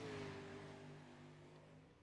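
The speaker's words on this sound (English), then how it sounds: "We might have gotten the car sounds back." A sprint car engine drones in a racing video game, a faint steady hum that slowly drops in pitch with a low rumble underneath.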